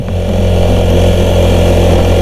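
A vehicle engine labours under heavy load in first gear on a steep, rough mountain road in Thailand, a loud, steady close drone with no voices.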